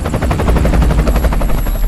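A helicopter hovers low over a walled compound at night in Abbottabad, its rotor pulsing in a loud, steady thudding beat that fills the space and drowns out everything else.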